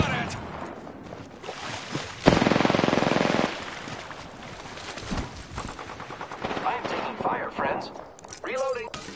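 Gunfire in Apex Legends on PS4: a loud, close burst of automatic fire followed by scattered shots and game effects, with in-game voice lines speaking over parts of it.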